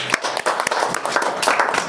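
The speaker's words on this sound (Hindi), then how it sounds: "हम परमेश्वर का ताली बजा के धन्यवाद करेंगे।" A congregation claps together in thanks during a gathering at a prayer hall in Indore, a dense, steady patter of many hands with brief louder bursts throughout.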